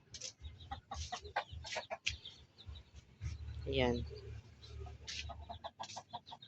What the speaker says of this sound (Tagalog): may nag-iingay na manok doon